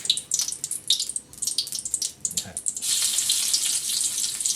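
Steady hissing sizzle of garlic frying in a pan, starting with scattered crackles and then settling into a continuous close sizzle.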